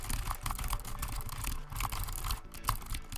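Someone types at steady speed on a computer keyboard, a dense stream of close, quick key clicks with a few sharper strokes standing out.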